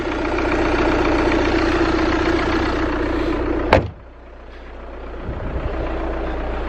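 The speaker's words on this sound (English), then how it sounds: "you can definitely hear that. The turbo is working now" A VW TDI diesel engine with a now-working turbo runs loud and steady at close range, then cuts off sharply with a click. A quieter rumble follows, then a low thump.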